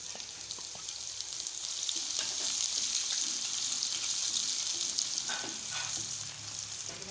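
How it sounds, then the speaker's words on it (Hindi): Chopped garlic fries in oil for kadhi pakora with a steady hiss and sizzle throughout and occasional light stirring clinks, close and moderately quiet, with no speech. "अब इसको ऑयल में भून रही हैं।"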